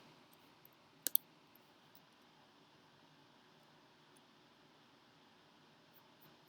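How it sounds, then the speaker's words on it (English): A computer mouse gives a quick pair of sharp, close clicks against a faint, quiet background hiss, with a couple of tiny ticks afterward. "So if I click on this file"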